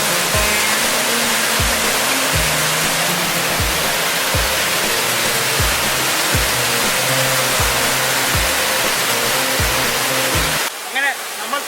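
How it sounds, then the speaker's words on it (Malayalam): Punnayar waterfall roars close and loud as a thick, unbroken rush of falling water, with regular low thumps beneath it before the roar drops away abruptly near the end. "അങ്ങനെ നമ്മൾ തപ്പി നടന്ന വെള്ളച്ചാട്ടം കണ്ടെത്തിയിരിക്കുകയാണ്"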